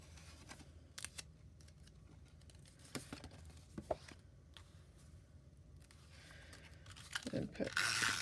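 Scotch tape is pulled and pressed onto an embossing folder in quiet, close tearing and crinkling bursts, with a louder rustle near the end and faint background hum.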